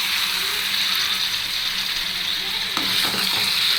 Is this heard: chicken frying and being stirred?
yes